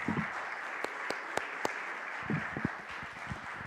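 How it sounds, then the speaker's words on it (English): An audience at a 2024 History Makers honoree reveal claps in a fairly faint, scattered round of applause, with a few sharper individual claps standing out. "So let's give one more round of applause for our 2024 History Makers."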